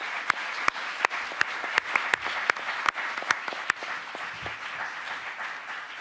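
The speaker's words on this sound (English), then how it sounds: "please join me in with a big applause to thank the four speakers" Sparse, fairly quiet clapping from a small conference audience thanking four panel speakers, individual claps standing out at an uneven pace before fading into room noise.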